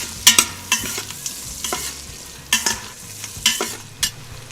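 Tonli vegetables sautéing in a pan for masale bhat sizzle softly while a spoon stirs them, giving a string of sharp, close scraping clicks at irregular intervals over a low frying hiss.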